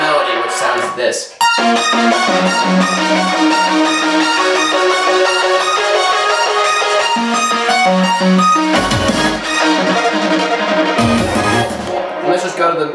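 Drum and bass synth melody played on a Virus synthesizer, a dense bright layered lead with steady rhythmic notes running continuously, briefly dropping out into short breaks near the end, with no talking.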